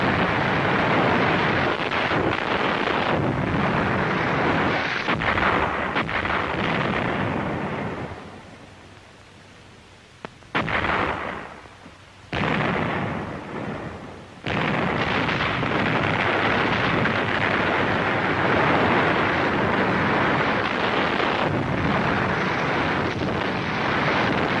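Artillery and mortar barrage on Iwo Jima during the World War II battle, a loud continuous roar of blasts and rumbling that drops briefly to near silence midway before resuming at full, dense intensity.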